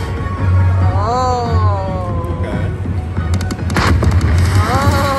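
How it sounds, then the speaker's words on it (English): A slot machine at a Las Vegas casino plays its firecracker-lighting effect: a burst of rapid crackling pops amid bright, gliding electronic tones and a loud, busy casino-floor hum. "Oh, it's lighting the firecrackers."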